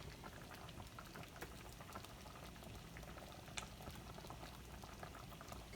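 A blackberry mixture bubbling on medium-high heat, a faint, steady boil of small pops and patters, even throughout with no voices.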